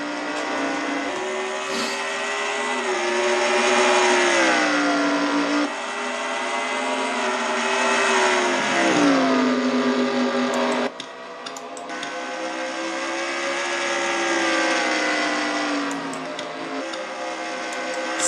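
Engines of stock cars in a racing video game roaring as they accelerate from a green flag restart at Bristol, a loud continuous drone rising and falling in pitch as the cars rev and shift.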